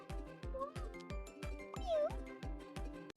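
A cute kitten in a girls' house-cleanup video game gives short synthesized meows over a bouncy looping game tune with a regular thumping beat.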